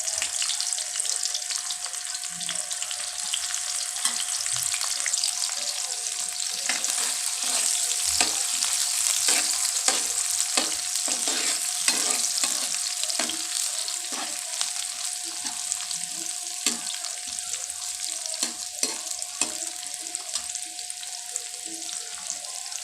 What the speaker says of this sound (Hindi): अब इसी घी में हम प्याज ऐड करते हैं